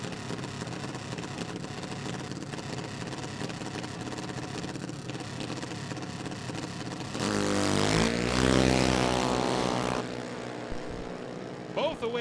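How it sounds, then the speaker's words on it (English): Junior drag racing cars launching side by side down the strip at a Summit Jr drag racing championship, a steady engine drone that swells into a loud, rising roar before easing off, under an announcer's commentary. "Both away green. See if that new motor can handle this for Miles."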